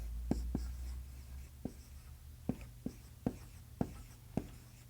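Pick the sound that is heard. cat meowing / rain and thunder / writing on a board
writing on a board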